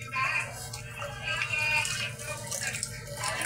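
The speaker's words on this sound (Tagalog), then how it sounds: "Patay mo muna saglit yung gripo." Water running from a kitchen faucet, a steady splashing hiss under faint background voices and household sounds.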